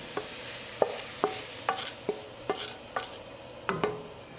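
Mushrooms being stirred into a pot of beef stew, giving a series of about nine short, sharp scraping clacks from a spoon against the pot, evenly spaced over a soft steady background.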